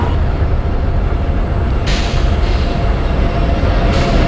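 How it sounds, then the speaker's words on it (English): The Ahmedabad AC double decker express, train number 12931, departs Vasai Road junction with a loud, continuous rumble and clatter of wheels on rails. The sound carries steadily throughout, with a brief shift in tone partway. "So one AC double decker express also departing from the Vasi Road junction."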